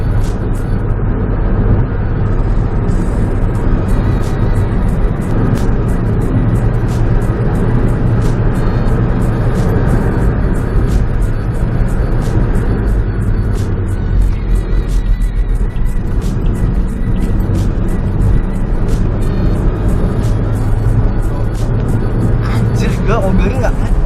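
Interior of a 2015 Toyota Yaris accelerating in fourth gear, a loud steady engine drone with road rumble throughout, someone talking over it.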